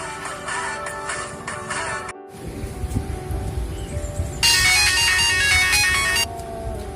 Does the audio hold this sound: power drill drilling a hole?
no